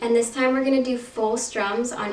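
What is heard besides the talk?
None of the usual background noises is heard.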